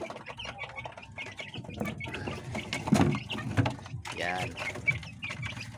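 Two-month-old Talisay green-legged gamefowl chicks cluck and chirp in short, scattered bursts close by, with someone talking over them throughout.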